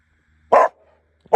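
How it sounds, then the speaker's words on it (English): A dog gives two sharp, loud barks close by, about a second apart, with quiet between them. "What are you barking at?"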